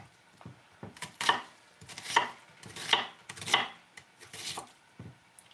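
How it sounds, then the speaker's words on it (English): Onions being chopped with a knife for chili, a series of distinct blade strikes on a cutting board in uneven clusters, close and clear with no talk. "I think she can hear me chopping from 3 or 4 states away"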